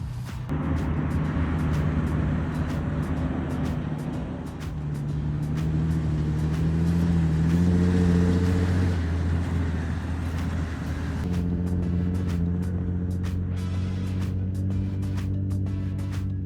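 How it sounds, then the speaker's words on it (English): An old Toyota Land Cruiser engine idles and drives with a low, continuous rumble whose pitch shifts up and down as it revs, heard at moderate distance and fairly steady throughout. "That's the sound of an old Land Cruiser starting up."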